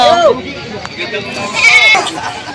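Goats bleating at a livestock market, a couple of wavering bleats close by amid crowd noise, with people talking throughout.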